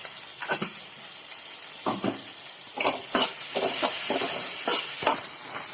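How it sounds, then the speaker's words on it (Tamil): Cut beans sautéing in a pan with a faint sizzle, broken by several sharp scraping stirs of a spatula at irregular intervals and no talking. "அதையும் போட்டு வதக்கிக்கலாம்"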